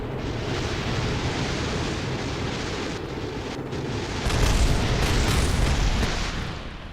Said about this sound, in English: Time to explode.